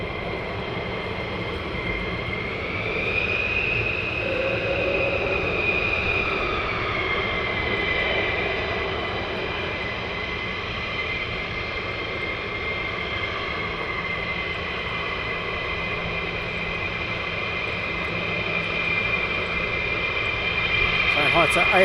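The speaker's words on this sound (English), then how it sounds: "Right, we have a departure. Runway 24, Lakenheath." A military jet departs from runway 24 at RAF Lakenheath, a loud, steady engine roar that stays continuous and rises slightly toward the end, holding the whole stretch.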